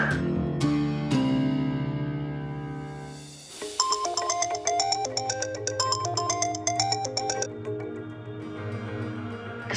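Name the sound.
phone ringtone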